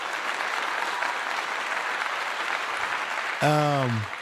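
Steady applause from a crowd runs evenly for most of the stretch, a dense wash of clapping heard at moderate distance, then cuts off abruptly as a single voice begins speaking near the end.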